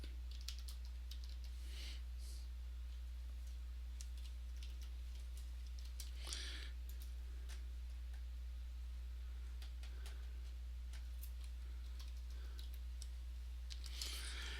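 Faint clicking of typing on a computer keyboard, scattered keystrokes in short irregular bursts over a steady low electrical hum, with no talking.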